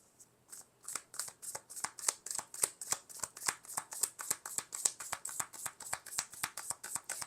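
Tarot cards shuffled by hand in a long, steady run of crisp riffling flutters, about four per second, close and clear with no talk.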